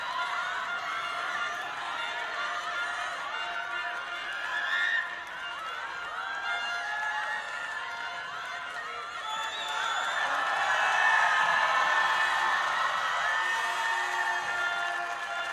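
Crowd in a hall at a women's judo match in Hungary cheering for a local fighter's sode-guruma-jime win, a continuous mid-distance roar of voices and whoops that swells louder toward the end.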